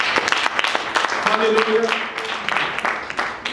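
A church congregation claps hands during a sermon, with dense, steady clapping throughout, while a voice calls out over it.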